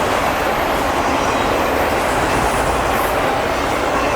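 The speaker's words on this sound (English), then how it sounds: "This is CSX load auto rack train." A loaded CSX auto rack freight train with a mid-train DPU rolls past in Germantown, a loud, steady broadband rumble of wheels and cars filling the whole stretch without a break.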